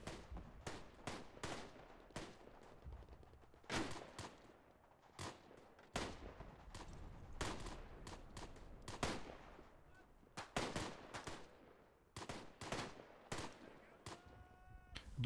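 Gunfire in the video game Tannenberg, a series of sharp rifle shots and short bursts at irregular intervals, some close and loud, others more distant, with no voices.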